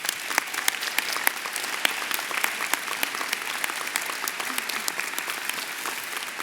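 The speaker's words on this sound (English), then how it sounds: "Let's have another warm round of applause for Dr. Hinds." A medical school white coat ceremony audience claps warmly, a steady patter of many hands with a few sharper individual claps popping out, moderately loud and continuous with no talking.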